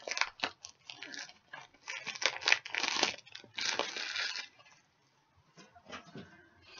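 Plastic packaging of small purple garbage bags crinkles and crunches as it is pulled off, close and in irregular bursts, then fades to near quiet before a few softer rustles.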